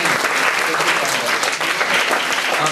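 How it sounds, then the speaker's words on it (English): Applause from an audience at an MBA department workshop, a dense, even burst of many hands clapping at steady volume throughout, with no talk over it. "give a big round of applause to sir for this benign"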